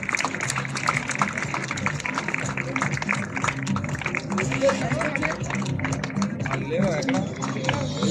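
A room full of students at an institute felicitation ceremony for a national child award winner breaks into steady, dense applause that lasts throughout, with voices murmuring underneath.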